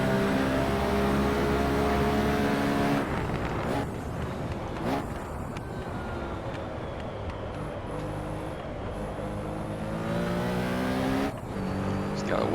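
A Porsche 917K race car's engine in the Assetto Corsa racing game roars loud and steady, dropping in pitch around a braking point before winding back up through the revs, with a brief tire squeal and no voice over it.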